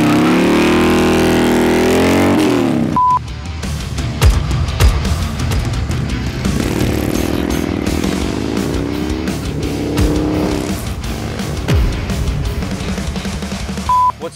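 Motorcycle with a 147 cubic inch stroker engine and 4.5 inch pistons, a slim model, ridden out, its loud close engine roaring and revving with rising and falling pitch throughout, a brief break near the start.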